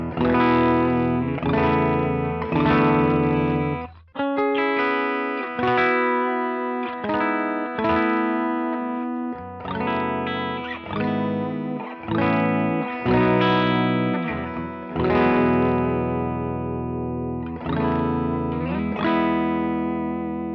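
Electric guitar played with a light picking touch through an overdrive pedal, giving a mildly driven tone: a steady run of strummed chords and picked notes with natural decay, alone and close, with a short pause near the start.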